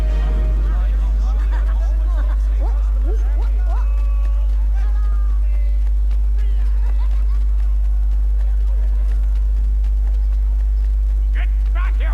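Horse hooves clip-clop in Assassin's Creed 3, a steady run of near hoofbeats on a city street with a constant low hum beneath and people talking throughout.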